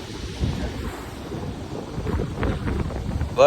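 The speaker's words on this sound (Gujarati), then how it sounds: "વરસાદ પણ ચાલુ થઈ ગયો હતો" Steady rain falls with a low, rumbling roll of thunder underneath; no voices, a constant wet wash throughout.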